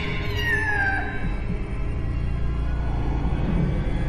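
A cat's drawn-out meow rises and falls over the first second, set against a dense, droning low ambience as an eerie sound effect in an animated Hindi horror story about a witch and her cat.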